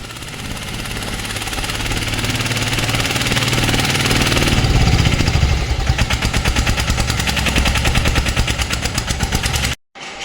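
A new diesel engine on a Sanedo three-wheeler tractor runs loud and close, its rapid chugging turning into a steady, pulsing rattle before cutting off.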